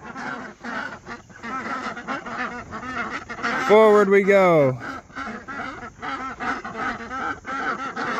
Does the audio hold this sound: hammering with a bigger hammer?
no